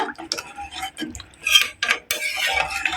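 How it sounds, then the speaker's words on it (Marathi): A spoon stirs dal and two glasses of water in a metal pressure cooker pot, with quick scraping strokes and sharp clinks against the rim, close and alone. "आता आपण हे मिक्स करून घेऊया"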